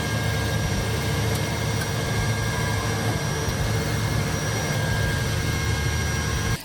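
A small plane's engine drones steadily and loudly in flight over Denali, a continuous close cabin roar with no pauses and no talking.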